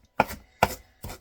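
A knife mincing parsley for tabouleh makes three sharp, evenly spaced chops on a cutting board, each a crisp close thud with a brief tail, with silence between and no talk.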